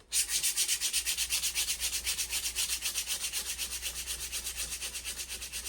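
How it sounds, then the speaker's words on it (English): Knife blade sanded by hand with 80 grit sandpaper, a close rhythmic rasp of quick, even back-and-forth strokes repeating steadily, around four per second, with no talking. "Now that can be done by hand with some 80 grit."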